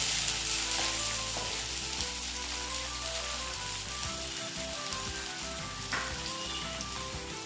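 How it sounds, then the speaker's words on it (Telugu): Chopped onions and green chillies frying in hot oil for coconut fried rice, a dense continuous sizzle with faint stirring and a low background hum, no one speaking. "ఇప్పుడు ఉల్లిపాయలు అయితే వేస్తున్నాము ఉల్లిపాయలతో పాటు ఉల్లిమిర్చిగా వేస్తున్నామండి"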